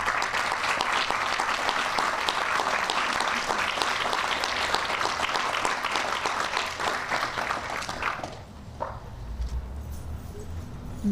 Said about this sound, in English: Why don't you all stand and receive a round of applause.